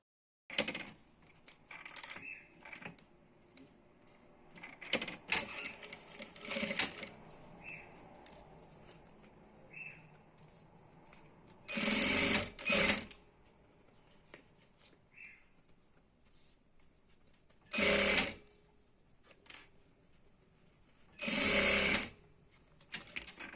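A sewing machine stitches a straight seam on a clear plastic case, running in several short bursts with quiet handling sounds between them.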